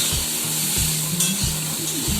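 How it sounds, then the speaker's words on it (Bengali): Snake gourd, potato, chickpeas and onion frying together in a pan, a loud continuous sizzle with rhythmic stirring scrapes every half second or so. "আলু, ছোলা, পেঁয়াজ দিয়ে ভাজা করে নিচ্ছি"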